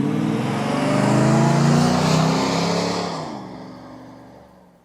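A Cadillac Allanté's engine pulls strongly on the road, rising to a loud, steady roar and then easing off and fading away toward the end.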